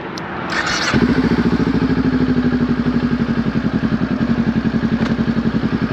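A Kawasaki Ninja 400 motorcycle runs in first gear, its engine giving a steady close rhythmic thrum with regular pulsing beats, after a brief clunk near the start.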